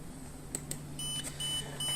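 A KNX CO2 alarm, deliberately forced on a boat's control system, sounds as faint, thin electronic beeps and tones in a short intermittent pattern over a low background hum.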